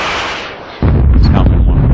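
Artillery fire in the war game Modern Campaigns during a Warsaw Pact offensive fire phase: a single loud, heavy boom cuts in after a short stretch of noise and rumbles on to the end.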